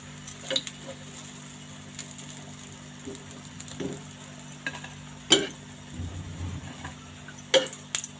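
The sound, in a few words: eggplant slices frying in a pan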